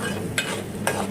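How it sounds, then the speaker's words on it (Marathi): Green chicken masala paste, ground with ginger and garlic, sautéing in hot oil in a pan, a steady close sizzle broken by two brief stirring scrapes. "10-15 मिनिटं चांगलं तेलावरती परतवून घेऊया"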